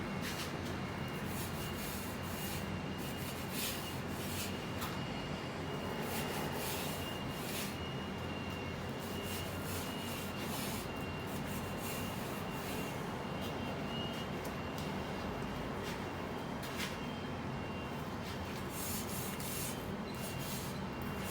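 Grease-spattered kitchen grills and glass get scrubbed by hand, a steady, continuous rubbing and scouring that runs the whole time at moderate level with no talk.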